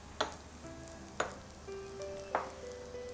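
Onion, ginger and garlic sauté in a pan over a quiet, even sizzle. Three spaced, sharp clacks of a spatula against the pan stand out, with faint tonal ringing in between. Nobody speaks.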